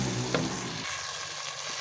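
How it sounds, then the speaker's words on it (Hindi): Green peas fry and sizzle in a pan with oil for aloo matar, a close, continuous crackle with a brief stir or scrape early on, and no voices. "1-2 मिनट हो गए हैं इनको भूनते हुए।"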